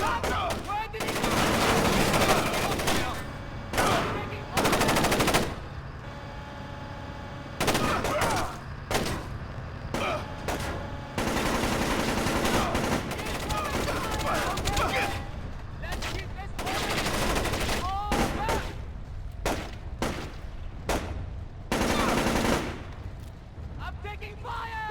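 Bursts of machine-gun and rifle fire in Splinter Cell: Chaos Theory, loud and repeated across the whole stretch, with shouted voices between the volleys.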